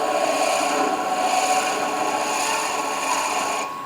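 A steady, gritty buzz of a small power texturing tool grinding against a wooden spinning top as it turns, running continuously without pause, then easing off at the very end.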